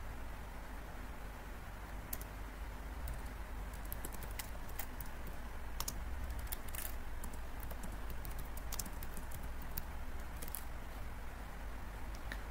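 Faint, irregular clicks from a computer keyboard as Java code is typed, soft keystrokes scattered over a quiet background hiss.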